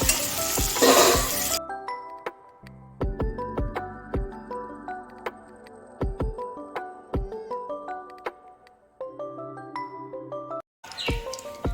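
Mustard seeds tempering in hot oil for a spicy red chutney, with crackling pops and sizzle opening loudly, then scattered pan clinks, spoon stirring and light tapping at close range, the sizzle returning briefly at the end.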